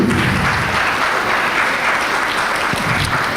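An audience at a hypnosis conference applauds steadily, a dense, even wash of many hands clapping throughout, loud and continuous.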